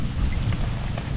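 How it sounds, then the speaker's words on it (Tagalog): Strong wind blowing outdoors near the sea, a constant low rumbling buffet across the microphone with no break, loud and close throughout. "Parang Lakas ang hangin"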